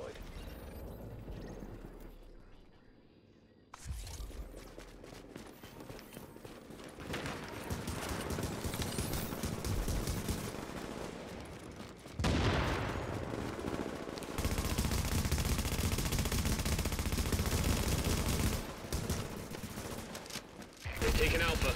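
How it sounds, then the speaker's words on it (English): Hostiles fire on a fortification in The Division's Last Stand mode, with heavy sustained volleys of automatic gunfire that build into a loud, continuous fusillade, with voices talking over it. "Hostiles are firing on a fortification"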